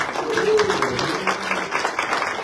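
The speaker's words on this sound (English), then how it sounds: "Let's give a round of applause to our chamber ambassador" A business gathering in a bank's upstairs room applauds a chamber ambassador: steady, moderately loud applause from a small crowd that continues through the whole moment, with a voice speaking briefly over it.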